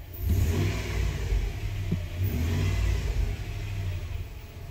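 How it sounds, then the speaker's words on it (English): A Hemi V8 in a car that has a ticking issue is revved up, rising to a deep, loud, sustained engine roar close by, then easing slightly while staying strong to the end. "Rev it again."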